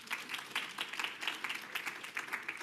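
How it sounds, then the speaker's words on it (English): Scattered applause at a public health education panel, fairly faint and steady, a small audience clapping briefly after introductions, with no talk over it. "get a round of applause from everybody"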